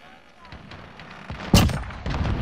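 Video game gunfire cracks out in a few sharp shots, one loud close blast amid fainter distant pops, with a voice talking briefly over the action.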